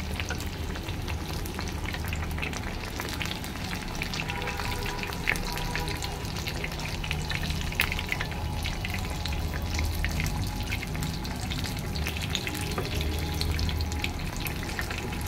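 Whole loitta (Bombay duck) fish fry sizzling steadily in very hot oil in a home kitchen, a continuous dense crackle with faint spitting pops and no voices throughout.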